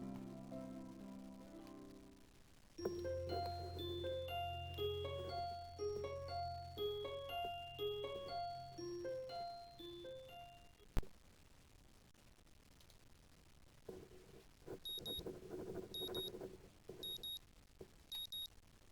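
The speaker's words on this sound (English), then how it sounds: "the sound of my alarm is quickly has me up and about" Alarm clock in the visual novel Katawa Shoujo: a bright repeating melodic chime pattern over a low tone, moderately loud, ending with a click, followed by quiet faint ambience and soft high beeps.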